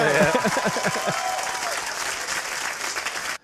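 Audience applause at a stand-up comedy recording, a dense wash of clapping that starts over a voice talking and then carries on alone, steady and fairly loud, before cutting off abruptly.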